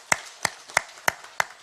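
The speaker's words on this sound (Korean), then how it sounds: "이분들에게 격려가 되고 하나님께 영광이 되는 박수 한번 드리겠습니다." Five evenly spaced, distinct hand claps ring out in a church, crisp and fairly close against a quiet background, with no talking.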